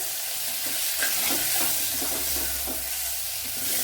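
Shallots and tomatoes frying in a pan give a steady sizzle and hiss, with scattered stirring scrapes and pops. It is close and continuous, and no one speaks.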